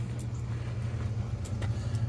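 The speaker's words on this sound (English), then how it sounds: "While I'm waiting here to pick up mulch for my sister in the old dump truck, I will show you guys it in operation." An old dump truck idles steadily while waiting to load mulch, giving a continuous low engine rumble with no one talking.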